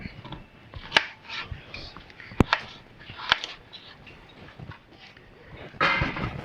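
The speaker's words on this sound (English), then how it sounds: "cut these up into chunks" A knife cuts a large potato into chunks on a board, with scattered sharp chops at irregular intervals, a few louder knocks among them, and a person talking between the cuts.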